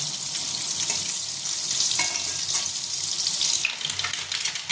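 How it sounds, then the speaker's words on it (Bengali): Eggs frying in a pan over a high flame, cooking for a biryani with eggs and prawns: a continuous bright sizzle and crackle, fairly close and steady, with no one talking. "হাই ফ্লেমে 1 মিনিট ভেজে নিচ্ছি। ডিমগুলো ভেজে নিলে কি একটু খেতে ভালো লাগে।"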